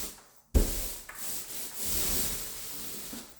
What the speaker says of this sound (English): For the edges, I just turn the roller on its side.